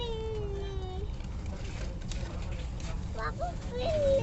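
A cat meows over steady low background noise near Jabal al-Nour mountain in Mecca, with a couple of short mewing calls near the end; the cries are moderately clear.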